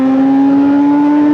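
A Honda CBR 600RR motorcycle engine gives a light, brief throttle blip: a steady, loud, close buzzing hum with a strong tone that barely rises, heard alone.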